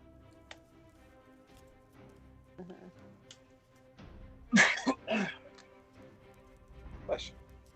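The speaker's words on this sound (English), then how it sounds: "It was a cough, but thank you anyway." A couple of quick coughs mid-clip, close and fairly clear, with faint background noise and a softer throat sound near the end.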